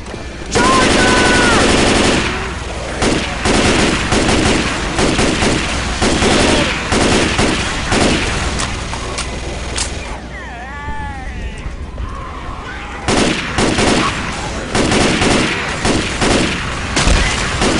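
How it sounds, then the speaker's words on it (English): Heavy mounted gun in Left 4 Dead 2 hammering out sustained rapid bursts, loud and close, with a few short pauses and voices talking through the firing. "Is somebody gonna fire that gun?"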